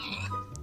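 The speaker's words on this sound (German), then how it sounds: "Oh, Schweinchen." A pig in the Minecraft video game gives a short grunting oink, a single brief sound heard close and clear.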